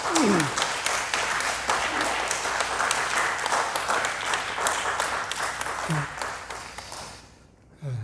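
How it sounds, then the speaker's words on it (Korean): A church congregation applauds to bless departing members, sustained even clapping with a few brief voices over it before it fades away. "우리 조심해서 가시도록 이렇게 격려하는 마음에서 박수로 축복하겠습니다"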